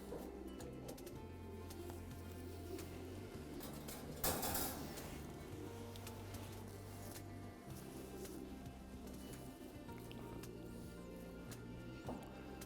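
Pigeons cooing inside a racing pigeon loft housing VanLoon birds, steady low murmuring coos running throughout, with a brief louder rustle or clatter midway.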